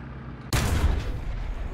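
A German tank cannon fires on a Sherman 105 in War Thunder, a single loud, close blast that cuts in sharply out of quiet engine rumble and leaves a long, booming tail.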